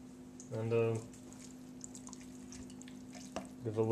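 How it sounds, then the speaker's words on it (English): Chili is stirred in a pot, producing soft scraping and gentle bubbling, with brief bursts of louder clatter near the start and end over a low steady hum. "give a little bit of a stir."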